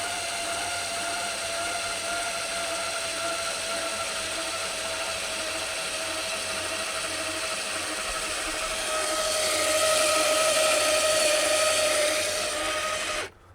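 An AGM Electric Jack PRO lifting a Can-Am Maverick R, giving a steady whining motor drone that grows louder and brighter partway through, then cuts off abruptly.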